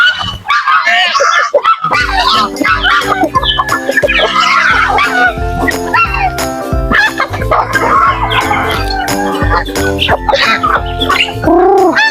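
Geese honk and squawk almost continuously in a noisy, overlapping chorus while being fed crackers, close by, with a person talking over the birds.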